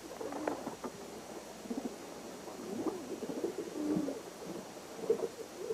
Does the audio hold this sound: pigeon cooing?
yes